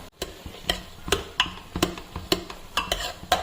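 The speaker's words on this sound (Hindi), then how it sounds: "जब यहाँ पर ये हो गया, ऑयल सेपरेट हो गया, मैं इसमें आलू जो है ऐड कर दिए हैं।" Potatoes go into hot, separated oil in a pressure cooker pan and are stirred with a utensil, giving a steady series of sharp scraping and clacking strokes over a low sizzle, close by with no talking.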